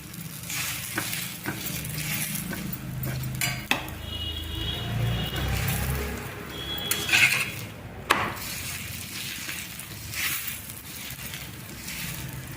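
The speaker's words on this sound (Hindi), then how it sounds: "मैं अभी तेल लगाकर इसे सेक रही हूँ" Aloo paratha roasts in oil on a pan with a soft, continuous sizzle, broken by scraping and clinks of a spatula and cookware against the pan.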